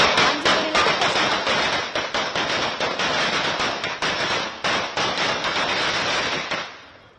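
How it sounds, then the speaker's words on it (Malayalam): A rapid string of firecrackers bursts loudly and continuously, dozens of sharp cracks in quick succession before fading out. "പടക്കം പൊട്ടിച്ച്"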